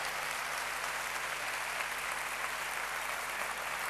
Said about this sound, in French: Merci les Alban, je crois qu'on peut applaudir très fort